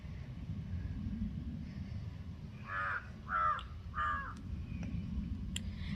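Crows caw from a mango tree in a home kitchen garden, three clear, evenly spaced caws at moderate distance over a low rumbling outdoor background.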